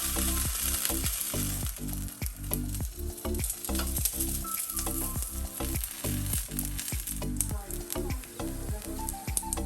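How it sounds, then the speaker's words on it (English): Rice paper dumplings fry in hot olive oil in a pan, giving a steady close sizzle broken by a regular rhythm of low thumps and bursts of louder crackle, with no talking. "Once your pan is nice and hot, we're gonna add our dumplings."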